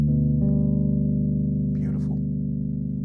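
A guitar rings out a sustained second-inversion triad on the five chord, a steady held chord with a soft pick attack at the start, loud and close, with a brief breathy noise partway through.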